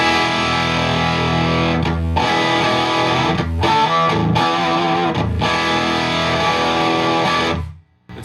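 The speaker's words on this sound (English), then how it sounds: "Shall I put the power station on so we can hear the front end harmonic distortion" A Hiwatt guitar amplifier pushed through a power station gives thick, saturated harmonic distortion: loud sustained chords with brief gaps between strums, ringing continuously before being choked off at the end.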